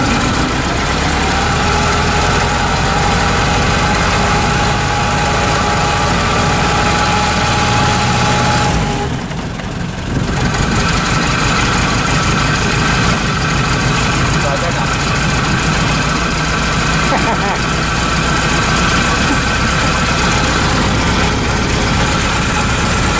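A Ford Model T engine idles in neutral with a steady, loud, even rumble and vibration throughout, briefly dipping for a moment midway; people talk over it.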